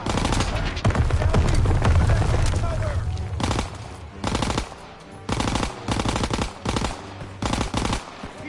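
Machine-gun fire in the World War II shooter Call of Duty, loud sustained bursts at first, then repeated short volleys separated by brief pauses, with game voices shouting over the action.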